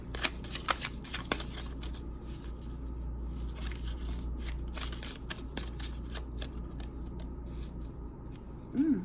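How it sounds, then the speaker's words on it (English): A deck of Pleasure Oracle cards is shuffled close by in quiet, irregular riffling bursts and flicks over a low background hum. "I'm going to pull a couple of cards from the Pleasure Oracle"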